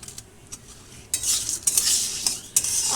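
Moong dal being dry-roasted in a pan as bay leaves go in, heard as a soft steady sizzle with sharp metallic spoon-on-pan clinks and stirring scrapes, close and fairly loud.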